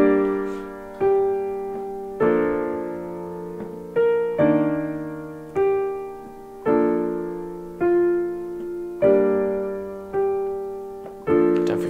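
A piano plays the opening line of a lesson piece, chords struck at a steady, even pace, each one ringing and decaying before the next, clear and close with no talking.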